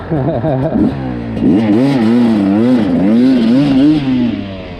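A Beta 300 RR two-stroke dirt bike engine, already warm, revs hard and close, with repeated rising and falling whining pitch sweeps over a few seconds and clattery mechanical edge.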